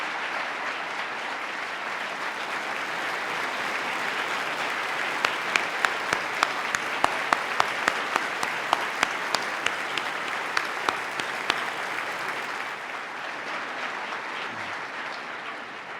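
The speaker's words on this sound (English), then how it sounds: "we applaud their heroism" Long, steady audience applause in a large hall during the 2018 New York State of the State address, a dense even roar of clapping with a few sharp individual claps standing out midway, tapering slightly at the close.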